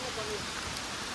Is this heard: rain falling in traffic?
yes